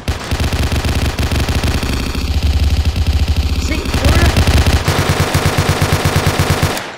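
Rapid, continuous automatic gunfire rattles loudly in a realistic gun video game, with long sustained bursts and a shift in the weapon's tone partway through.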